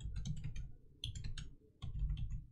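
Bursts of quick keystrokes on a computer keyboard as a database backup command is typed on a Mac, three clustered runs of close, fairly quiet clicking with brief pauses between them.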